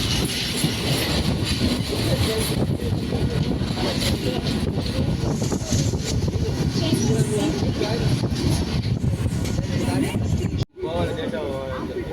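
EMU local train travelling from Sullurupeta towards Chennai Central, a steady loud rumble of wheels and carriage noise with wind throughout, briefly cutting out near the end, while someone talks over it.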